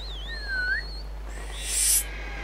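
Bird calling in the video game Zelda: Skyward Sword HD, with high, gliding whistle-like cries, a couple of swooping calls and then a brighter shriek, over a steady low hum.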